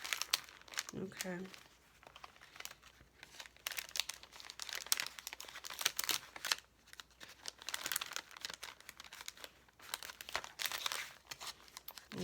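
Paper being folded for a handmade craft project gives repeated crisp crinkles and creases close by, with a person speaking over the paper handling.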